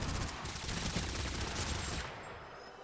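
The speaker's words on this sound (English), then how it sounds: "I was hoping to lure them in by shooting my guns like I was in a fight" Gunfire in the video game TABG comes as rapid, dense, continuous bursts of shots, loud and close, then drops away sharply near the end with no talking.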